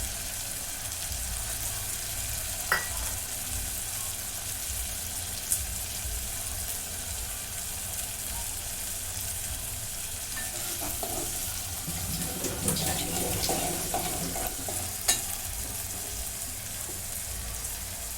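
Onion greens, a small tomato and curry leaves sauté in a hot pan with a continuous sizzle, broken by occasional stirring scrapes and clinks of a spoon, heard close and steady with no talking.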